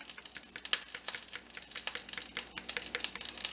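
Deer heart fries in a hot skillet, giving a busy crackling sizzle of rapid pops and spits that runs steadily and close throughout.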